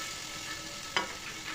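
Slices of bottle gourd with turmeric frying in a pan, a steady soft sizzle with a faint stirring scrape near the middle, heard close with no talk.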